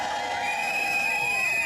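An outdoor crowd at a rally to keep a comprehensive school cheers in a sustained, fairly loud roar, with shouts and a high whistle-like tone running through it.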